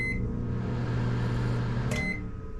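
A microwave oven running on a generator in a toy hauler or trailer, giving a steady loud hum with a brief beep near the end, and no voices.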